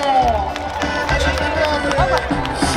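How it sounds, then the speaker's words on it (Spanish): A crowd at a rodeo anniversary celebration in El Naranjo, San Luis Potosí, claps and cheers loudly around an announcer's amplified voice, with whistles and shouts layered through the noisy mix. "venga el aplauso, venga el aplauso bonito"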